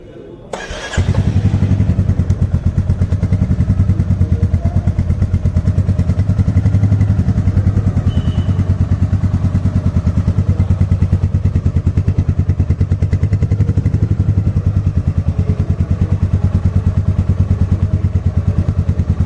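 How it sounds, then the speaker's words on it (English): A Royal Enfield Meteor 350 motorcycle starts with a brief clatter, then settles into a loud, steady single-cylinder exhaust thump that idles evenly and close by for the rest of the clip, with no talking. "The exhaust note of this motorcycle is a little bit different and it's a little bit louder than the old 350cc engine"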